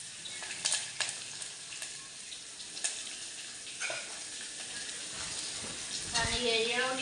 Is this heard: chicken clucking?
no